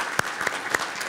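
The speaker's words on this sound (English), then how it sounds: "Allie, we've got to give her some applause." A few separate claps ring out in a roughly steady rhythm from an audience at a conference opening address, sparse and moderately loud rather than a full ovation.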